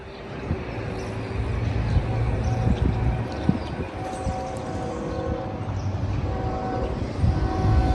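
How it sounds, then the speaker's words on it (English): A freight train rolling right through the middle of the small town of LaGrange, Kentucky, a loud sustained rumble of rail cars with a horn sounding, heard outdoors at close range. "show you the train going right through the middle of town"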